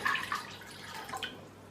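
About 1.5 cups of water trickles and drips into a cooking pan for kadha tea, a soft, close splashing that fades over a couple of seconds.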